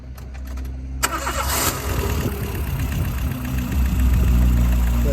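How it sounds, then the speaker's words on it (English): A car engine cranks and catches after an oil change, a sharp start followed by a steady, close idle that rumbles on to the end. "start the vehicle"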